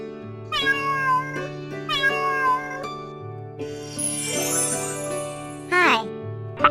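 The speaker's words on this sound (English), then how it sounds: "C-A-T, cat." Several cat meows, some drawn out like caterwauls, sound over a steady musical backing with light jingling, each call loud and close in a children's farm animal song.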